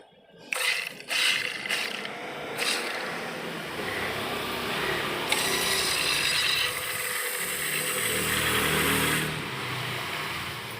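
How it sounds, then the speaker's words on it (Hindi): The faulty diesel fuel pump of a VW Passat with a starting problem runs with a loud, continuous mechanical whirring buzz after a few clicks and clunks, heard close up. "ये पंप में तो आवाज़ बहुत है"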